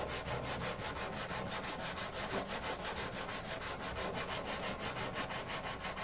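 A sanding sponge rubs back and forth over a repaired lawn tractor hood, giving a steady, continuous scraping texture in a fast, even rhythm, close and fairly loud with no talking.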